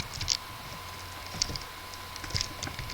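Sparse computer keyboard clicks, heard over a voice chat while playing a game, a few separate key presses spaced apart over a low steady hum.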